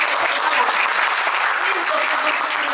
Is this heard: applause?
yes